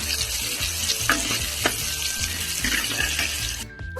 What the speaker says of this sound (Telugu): ఇప్పుడు ఈ సోయా చంక్స్ అనేవి ఇందులో యాడ్ చేసుకున్నాం. చక్కగా మళ్ళీ ఒకసారి కలుపుకుందాం. కొంచెం లైట్గా ఫ్రై చేయాలి.